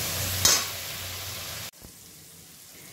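Spices with Kashmiri red chili and green chili fry in a pan for a Bengali fish curry, a close, soft sizzle with a clink, cutting to a quieter hiss halfway through, with no talk.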